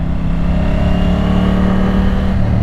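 A motorcycle on Michelin Road 6 tires rides along a wet road, its engine humming loud and steady with the hiss of road and wind noise throughout.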